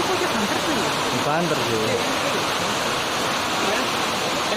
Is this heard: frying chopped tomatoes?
no